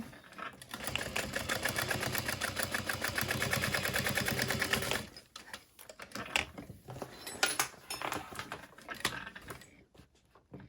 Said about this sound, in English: and then I'm gonna sew across here.